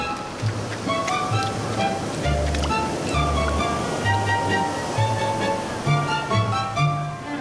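Ocean breakers crash and wash steadily onto an Andean shore where penguins head into the surf, a constant rushing roar with soft orchestral music laid over it.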